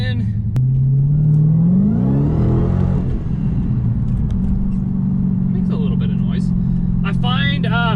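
Turbocharged LS-powered Ford Mustang held in gear while revving, the engine note climbing then holding at a high, loud steady drone close by, with someone talking over it near the end.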